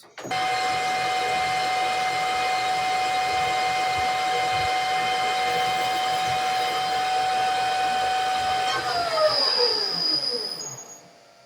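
A manual lathe turns a custom sewing machine bobbin at around 1350 RPM for a finishing pass, giving a steady loud tonal whine with a rich harmonic hum that winds down and fades near the end, with no talking.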